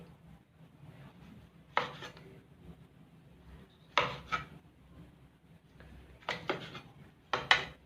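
A knife slices thinly through blanched pork on a cutting board in several scraping strokes, separated by pauses, close and fairly quiet.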